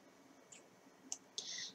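Several faint, sharp mouse clicks, spaced irregularly and one doubled near the end, made while selecting a double-quote symbol in PhotoScape X photo-editing software, in a quiet room with no talking.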